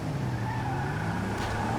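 A car driving in Grand Theft Auto V: a steady engine drone with road rumble, heard close and moderately loud, with a brief rise in noise near the end.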